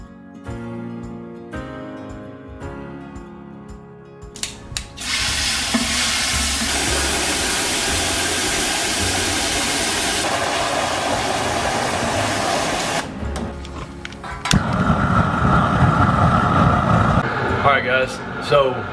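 A loud, steady roaring rush of jet burners heating a pot boiling an animal skull fills most of the clip, with voices talking before and after, and bursts of clattering noise.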